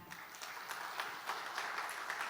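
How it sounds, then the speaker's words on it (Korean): At the opening ceremony of an international conference, an audience gives a round of applause that sounds soft and somewhat distant, a continuous crackle of many hands with faint rhythmic pulses. "여러분 뜨거운 박수 부탁드립니다."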